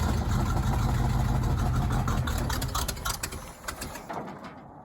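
An old Jeep engine being started for the first time, a loud, rough, close rumble of cranking and catching that runs steadily, then grows uneven and tapers off near the end, with no voices.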